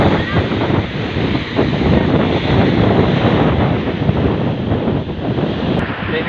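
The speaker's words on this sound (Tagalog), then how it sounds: "Winawasiwas ng alon." Sea waves wash and splash against a small fishing boat out on the water, a loud continuous roar mixed with heavy wind buffeting the microphone and a voice talking underneath.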